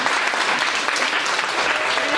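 A church congregation at a prophetic testimony service applauds loudly and continuously, a dense wash of many hands clapping with no break.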